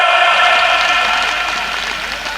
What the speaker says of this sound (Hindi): मैं तो कहूँ बजाओ घोराओ तालियां